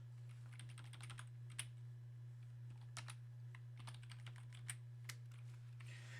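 Computer keyboard typing as an equation is entered, with soft, quiet keystrokes in irregular bursts over a steady low electrical hum.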